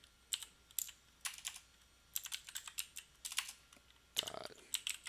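Keystrokes on a computer keyboard in irregular bursts of quick taps with brief pauses, fairly close and moderately quiet, with no talking.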